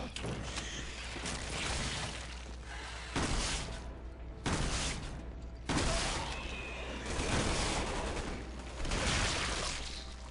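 An assault shotgun fires repeatedly in the Resident Evil 6 video game, semi-automatic rather than pump action, with loud bursts of blasts every second or so over a steady hum of game background noise.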